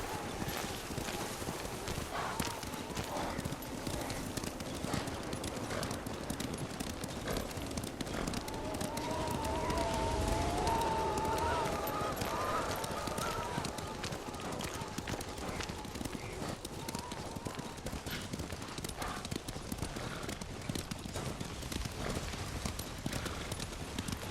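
Hooves clatter in a steady fast rhythm as horses gallop in the samurai game Ghost of Tsushima, with voices talking over the ride.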